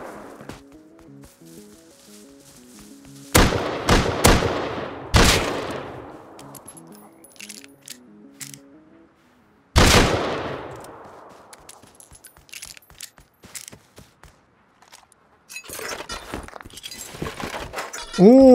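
Berdan rifle fire in the survival game Rust: a quick cluster of loud, sharp cracks with ringing tails, then another single heavy shot after a quiet stretch, with faint clinks and rustles between.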